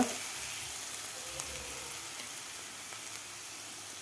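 Steady, close sizzle of a green chili, garlic, ginger and cumin paste sautéing in oil for vada pav, a soft continuous frying hiss with a few faint stirring ticks and no talking.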